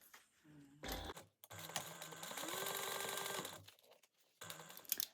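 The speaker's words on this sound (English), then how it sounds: "we're going to sew this down at a 1/4 inch seam allowance" A sewing machine stitches a quarter-inch seam on a bunny bag in short runs, a brief burst then a longer steady stretch and another short burst, with pauses between.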